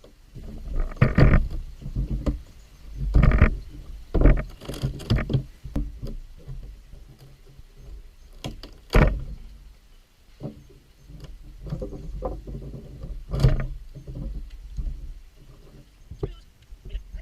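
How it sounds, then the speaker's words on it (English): A rotten deck board is pried up with a pry bar, giving scattered creaks, squeaks and dull knocks in irregular bursts, fairly close, with no talk. "You can now take the pry bar and put it into the hole that you drilled and start prying."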